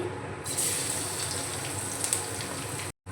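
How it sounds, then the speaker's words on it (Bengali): Chopped garlic dropped into hot white oil with sesame seeds: a steady, hissing sizzle starts after a brief pause and holds evenly, close and moderately loud, ending in a short cutoff, with no talk. "দিয়ে দেব রসুন কুচি,"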